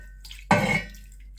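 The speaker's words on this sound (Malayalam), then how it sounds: "വെള്ളം ഒരു 1/4 കപ്പ് ഒഴിച്ചു കൊടുക്കാം." A quarter cup of water is poured into a pan of beef seasoned with pepper and salt, making one short, close splash that fades quickly into quiet.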